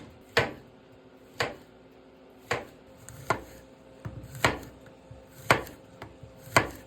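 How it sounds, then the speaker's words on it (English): A knife slices squash thinly on a cutting board in sharp, close, isolated chops, seven strokes at an irregular roughly one-second pace with quiet gaps between them. "So we're gonna thinly slice 6 squash."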